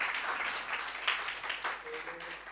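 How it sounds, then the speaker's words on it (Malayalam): A crowd at a church anniversary gathering applauds the children with dense, steady clapping, moderately loud and continuous, with some voices mixed in. "കയ്യടി നടക്കട്ടെ കുഞ്ഞുങ്ങൾക്ക്"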